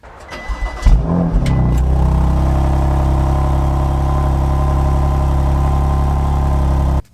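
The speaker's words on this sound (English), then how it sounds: "let's do a quick cold start from the pair of them. We'll do the competition pack car first" A stock BMW M2 Competition engine cold starts: cranks and fires, flares up loudly, then settles into a deep, steady idle before cutting off abruptly.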